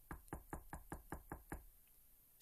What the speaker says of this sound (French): Je frappai,